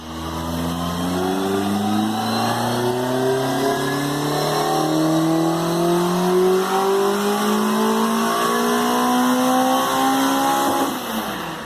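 A Mini race car engine on a rolling-road dynamometer revs steadily upward in pitch for several seconds during a power run, a continuous high-powered roar that climbs and then abruptly drops off near the end.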